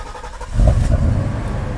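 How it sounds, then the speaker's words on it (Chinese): A Mercedes W126 560 SEC V8, just repaired with a rebuilt fuel distributor, cranks and catches within a second, then settles into a steady, loud, low idle close by, with no talk over it. "好，大哥来发动引擎"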